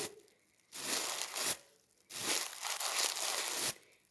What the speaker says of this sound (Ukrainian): І робимо натиск на папері нашим пакетиком